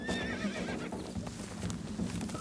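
An injured, frightened young horse neighs and whinnies loudly and close, with hoof clip-clop beneath as it bolts away.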